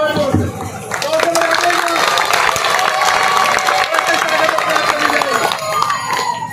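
Audience at a Bahujan Samaj Party political rally clapping loudly and continuously as a crowd, with cheering and voices mixed into the steady applause throughout.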